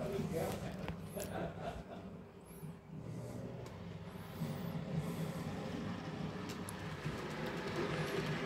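An H0 gauge Chesapeake & Ohio model locomotive shunting back and forth on a home layout, giving a continuous low rumble and hum with faint squeals from the rails, steady and close, with a person talking over it.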